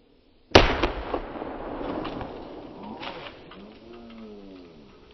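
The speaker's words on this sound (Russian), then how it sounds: "В итоге петарды сработали не одновременно" A sharp, loud firecracker blast goes off as three taped-together firecrackers detonate unevenly, followed by crackling bursts and a lingering rumble, with birds cooing faintly in the background.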